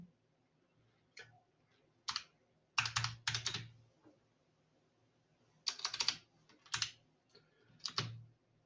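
Bursts of keystrokes on a computer keyboard while entering text into an Excel spreadsheet, clustered in several short runs of clicks separated by pauses, close and clear with no talking.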